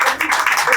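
Audience applause at a university theatre-philosophy talk, a steady dense wash of clapping filling the short moment with no voices over it.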